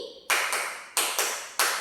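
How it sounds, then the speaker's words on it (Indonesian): Five crisp hand claps from a teacher demonstrating a clapping pattern for primary school pupils, grouped two, two, then one, each snap close and bright with a brief echoing ring, no speech over them. "tepuk 5 kali."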